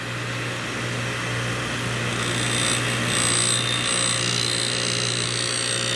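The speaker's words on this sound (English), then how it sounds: "Grind the first side" A Rush 132 drill grinder's abrasive wheel grinds the first side of a drill bit, giving a steady, close, continuous high whine over a constant motor hum that swells slightly midway.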